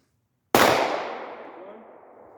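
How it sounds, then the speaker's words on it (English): A single loud, close handgun shot fired at a target during a close-distance moving-and-shooting self-defense drill cracks sharply after silence and rings out in a long decaying echo. "Slowly move. Make sure your dot stays on the target and fire."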